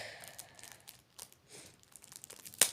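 Faint crinkling and rustling of packaging with brief tearing bursts, ending in one sharp, loud rip near the end.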